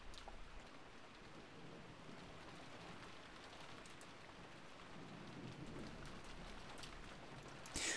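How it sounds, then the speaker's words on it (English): Rain sound effect from the visual novel game Umineko, a steady heavy downpour with a dense hiss of drops and low rumbling, continuous throughout with no voices. "The only voice that called after them was the sound of the rain."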